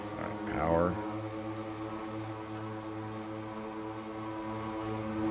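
An airplane engine powering up in Microsoft Flight Simulator, a loud, steady droning hum with strong tonal harmonics and a brief rising, wavering whine at the start.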